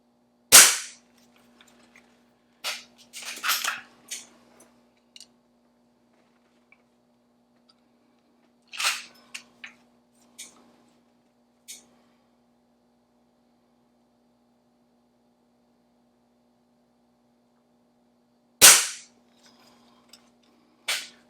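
A Beeman 1020 spring air pistol fires diabolo pellets on a 10-meter range: sharp, isolated shots several seconds apart, each followed by faint clicks and handling noise, over a steady low hum in a quiet room.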